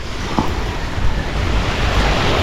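Sea waves wash steadily onto the shore, a loud continuous surf roar with wind buffeting the microphone throughout and no talking.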